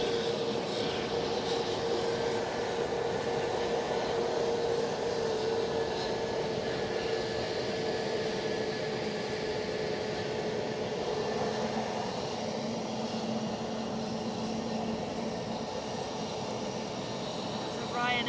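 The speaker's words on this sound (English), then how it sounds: "So we've got an outward bound Ryanair 737 to Gdansk" A Ryanair Boeing 737 jet bound for Gdansk roars steadily and fairly loud at Edinburgh airport, a continuous broadband engine rumble with a faint whine, while people talk over it.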